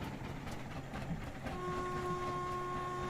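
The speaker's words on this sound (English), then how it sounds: "There's the whistle going." Steam whistle of a Quarry Hunslet locomotive in a Bala Lake Railway simulation game, a steady sustained tone that starts about halfway through and holds over a continuous rolling train rumble.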